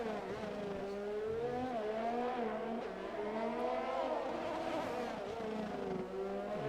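A race car laps the Baku street circuit in a racing video game, its engine droning steadily as the pitch rises and falls through gear changes and corners, close and continuous with no break.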